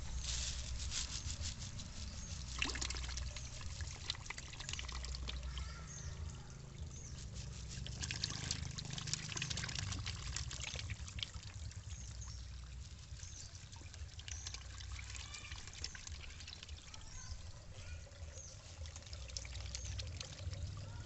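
Running water pours steadily into bucket tilapia tanks at a small fish farm, a continuous trickling, splashing flow that stays even and fairly close throughout, with no talk.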